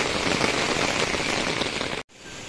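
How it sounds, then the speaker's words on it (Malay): Heavy rain at night at a riverside campsite pours down in a dense, steady hiss, drumming on a surface, then briefly cuts out before resuming slightly softer. "Cuaca sangat hujan lebat malam ni"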